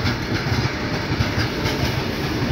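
Python freight train, a very long coupled goods train, rolling past close by in a dense, steady rumble with wheel clatter and no pauses, loud throughout with no voices.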